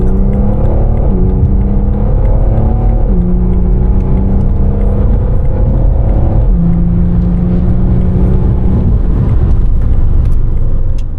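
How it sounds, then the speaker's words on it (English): A Stage 3 tuned BMW 530d M-Sport diesel making 450 horsepower pulls hard through repeated gear changes, its loud, steady engine drone climbing and dropping at each quick shift, with no voices. "the car also makes a really nice noise, a very nice noise in fact for a diesel"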